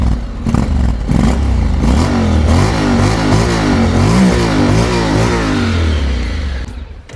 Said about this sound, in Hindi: नोट सुनाते हैं, एकदम स्टार्ट करके। अब एकदम स्टॉक एग्जॉस्ट लगा हुआ है